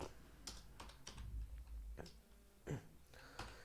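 Sparse, quiet keystrokes on a computer keyboard while typing text into MS Excel 2013, a handful of separate clicks at an irregular pace in a calm room.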